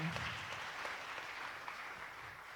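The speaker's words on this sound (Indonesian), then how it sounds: "Tepuk tangan." An audience at a village innovation ambassador outreach session claps for 172 university students receiving scholarships, a dense, steady patter of many hands that holds at an even, moderate level for the full stretch with no voices over it.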